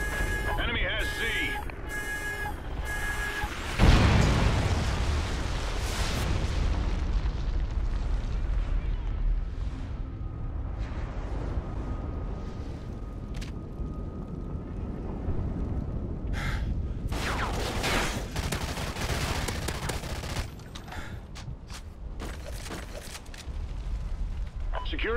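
A friendly chem strike in a video game sets off a loud, rumbling blast that rolls into sustained roaring explosions and scattered gunfire, with a voice speaking over parts of the din.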